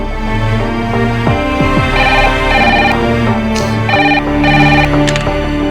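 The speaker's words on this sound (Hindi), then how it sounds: "देव, नॉर्मल लोग फोन उठा के हेलो बोलते हैं" A phone rings with a bright, repeating electronic ringtone in short bursts, fairly loud and close, over a busy background of music-like tones.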